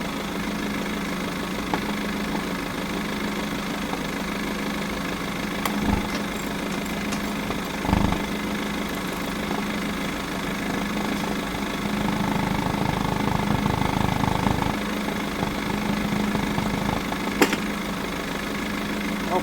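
A Range Rover Velar engine idles steadily in a workshop during an automatic transmission fluid service, a continuous mid-pitched hum with occasional clanks and knocks from nearby work, no talking.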